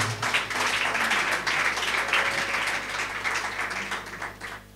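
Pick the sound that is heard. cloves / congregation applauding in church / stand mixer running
congregation applauding in church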